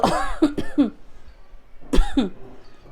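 Several sharp coughs from one person, two close together near the start and another after a short pause, with throaty clearing in between, heard nearby in an indoor cooking setting.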